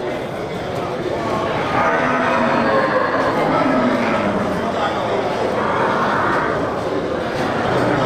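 Cattle at a livestock market with a few low drawn-out moos over a constant crowded, noisy background, heard amid general market din and distant voices.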